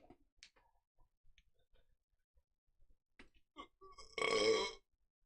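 A man lets out one loud, drawn-out burp near the end, after a quiet stretch of faint clicks, taps and small mouth noises.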